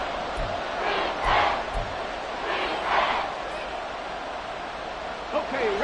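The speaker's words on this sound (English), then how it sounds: "the crowd getting into it as we come up on a big 3rd down" Football game crowd roaring in a stadium as a big third down approaches, a steady broad wash of cheering with swells of louder yelling, continuous and fairly distant.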